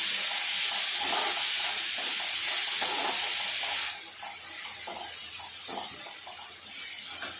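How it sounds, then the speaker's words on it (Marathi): Chopped tomatoes with a little salt cooking in a hot pan for a green pea curry, a steady loud close sizzle and hiss that eases slightly partway through, with faint stirring and no talk. "त्याच्यावर थोडं मीठ टाकून घेऊया टोमॅटोला पण चांगलं शिजवून द्यायचं"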